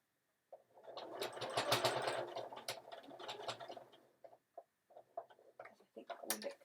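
A sewing machine stitches a box seam on a Sew Together Bag, whirring in a sustained burst that breaks into short runs and stops as the seam turns, close and fairly quiet.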